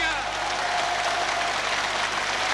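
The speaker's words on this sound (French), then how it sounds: "Tonnerre d'applaudissements" Thunderous applause at the Palestinian National Council, a dense, loud, unbroken roar of clapping from a large assembly, sustained throughout.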